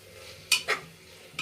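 A spoon stirs mint and coriander into tomato bath in a pan, giving a few quick scraping strokes against the metal over a faint background hiss.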